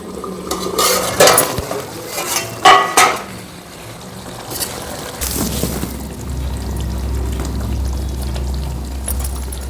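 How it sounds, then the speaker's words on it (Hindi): Roasted ground spices are added to kadai paneer in a wok, bringing close scraping and stirring clatter of a spoon against the pan, then a steady low sizzle of cooking. "अब इसमें हम ये भुने हुए मसाले डाल देते हैं, जो कि हमने भून कर पीस कर रख लिए थे।"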